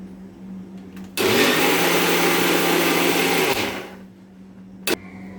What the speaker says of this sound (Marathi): तर हा मी नारळ वाटून घेते.